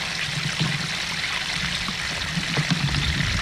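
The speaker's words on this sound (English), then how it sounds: "This water's moving pretty fast here." Fast creek water rushing through a creek bed past gopher holes in the bank, a steady close gurgling and splashing flow with no talking.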